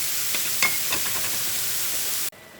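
Vegetables for vegan fajitas sizzle steadily in a hot pan, a soft, even hiss with faint crackles and a brief clink, cutting off abruptly near the end.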